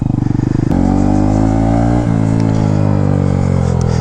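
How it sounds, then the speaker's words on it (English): A 2022 Honda Grom motorcycle fitted with a new aftermarket exhaust revs loudly and close up, its engine note jumping sharply once, then settling into a steady, throaty drone that gently sags in pitch. "Let's listen to this real quick. Ooh, new exhaust."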